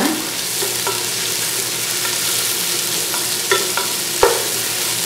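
Raw onion sizzling in hot oil for mutton biryani, a steady loud frying hiss with a few soft scrapes of stirring, close and continuous, no voices.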